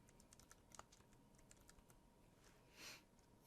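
Quiet, sparse keystrokes on a computer keyboard: scattered soft clicks with long gaps and a slightly louder tap near the end, no voices.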